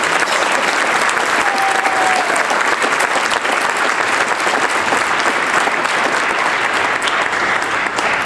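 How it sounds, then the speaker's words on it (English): A concert audience at an all-county honors band event gives the band directors sustained, loud applause, dense hand-clapping holding evenly from start to finish with no voices rising above it. "How about a big round of applause to the directors?"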